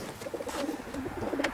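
Several racing pigeons coo softly in overlapping, throaty murmurs while being basketed for a competition flight in Czersk, Poland, with a few brief higher chirps mixed in.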